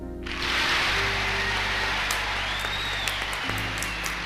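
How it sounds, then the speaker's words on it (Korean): Members of both houses of Congress give a standing ovation after General MacArthur's farewell address, a dense, continuous wash of applause that swells quickly and holds steady, loud and sustained throughout. "연설이 끝나자마자 상하원 합동 연설이었는데 의원들 전부 일어나서 기립박수를 했습니다"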